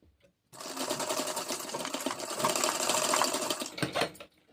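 A sewing machine stitches blouse fabric in one continuous close, loud run of rapid needle clatter that swells slightly toward the end and then stops, with no talking.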